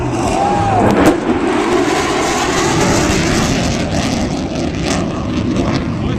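A jet roars past close by at an air show over Jones Beach, flying just under the speed of sound, a loud sustained rushing engine blast that stays strong throughout.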